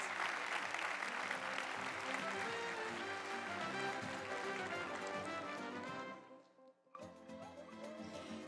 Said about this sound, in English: I'll invite the audience to applaud our panelists